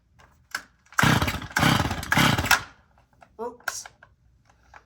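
A Stihl chainsaw drop-started with the chain brake on roars to life in rough bursts, catching and fading twice before a shorter rev, with brief voices and small handling noises in between.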